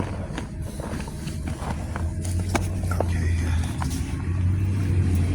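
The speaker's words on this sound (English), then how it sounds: "Here come the bus. Yeah, my bus." A city bus arrives on a street, its low diesel engine rumble building steadily and growing nearer, with footsteps and city background noise around it.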